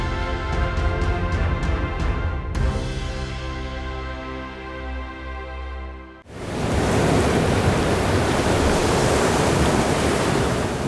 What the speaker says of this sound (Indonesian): Deburan ombak jelas terdengar di pantai di depan lokasi prosesi acara Sumuleng.